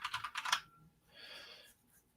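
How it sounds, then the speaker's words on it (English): A command typed on a computer keyboard, heard as a quick close burst of about half a dozen key clicks, followed by quieter background noise. "I want to type umask."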